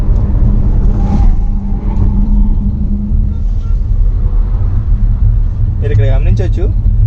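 An MG Hector SUV cruises on a cement road around 100 km/h, a constant deep rumble of road and tyre noise filling the cabin, with brief whirring bursts near the end.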